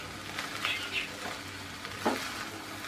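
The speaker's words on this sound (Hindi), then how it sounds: "और सबको एक बार और अच्छे से मिक्स कर दें।" Chilli chicken fried rice sizzles steadily in a hot pan while being stirred, with a few scraping strokes of the spatula standing out close by over the continuous frying hiss.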